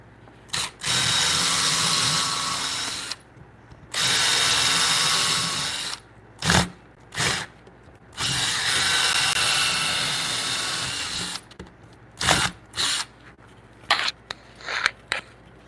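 A power drill with a Forstner bit bores mortises into timber for a timber-frame bunk bed, in several long whining runs followed by short, choppy bursts and pauses, loud and close.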